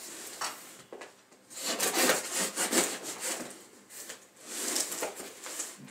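A blade saws and scrapes through a heavily taped, tightly wrapped parcel holding two bottles of wine, giving repeated rough rasping strokes in uneven bursts, close and fairly loud, with no talking.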